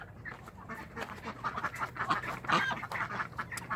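Ducks quack repeatedly in a backyard garden, several close, nasal calls overlapping in a busy, uneven chatter at moderate volume.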